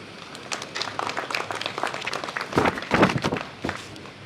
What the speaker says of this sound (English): A round of applause for yourself.